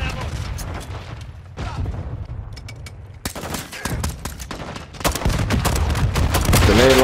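Grenade launcher blasts and rapid gunfire in Call of Duty: Modern Warfare II co-op, sharp booms and bursts of shots cutting through a busy battle, loud and near, with players talking over parts of it.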